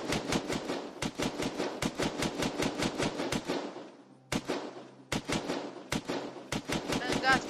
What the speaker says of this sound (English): These are high caliber guns, and these will be really loud.